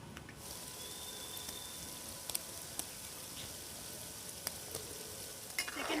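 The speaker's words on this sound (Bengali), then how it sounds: "সেকেন্ড ব্যাচটাও ঠিক একইভাবে ভেজে নিচ্ছি।" A second batch of madan bhaja fries in hot oil, a faint, even, continuous crackle with a few small pops and a light clatter at the end.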